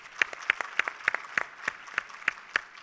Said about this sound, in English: how about another round of applause for Dr.